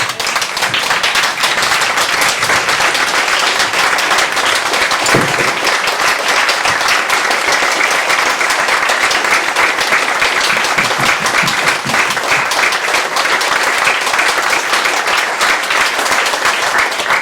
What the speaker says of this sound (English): Let's stand and clap for our NHS again.